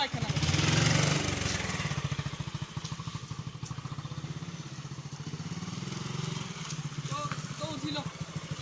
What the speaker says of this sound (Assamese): ঘূৰাই লওঁ বাইকখন